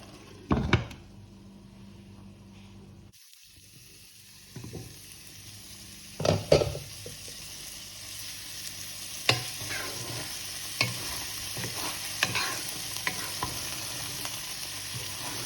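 Rice with meatballs and tomato cooking in a pan over lowered heat, giving a soft steady simmer and sizzle broken by several stirring and scraping bumps, and no talking.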